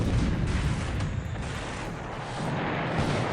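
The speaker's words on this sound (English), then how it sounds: "Oh, we got a torpedo hit" Torpedo hit explosions in a World War II naval war video game, a continuous loud rumbling roar of booming blasts and battle noise filling the whole stretch, with no talk over it.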